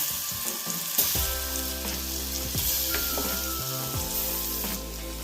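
Dried red chillies frying in leftover papadam oil, a steady broadband sizzle with occasional clinks and scrapes against the pan, continuous and fairly close throughout.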